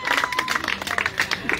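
An audience claps at a live event, a dense patter of hand claps rising and falling in bursts, close and fairly loud.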